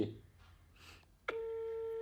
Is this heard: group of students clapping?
no